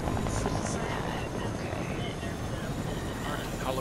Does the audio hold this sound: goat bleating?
no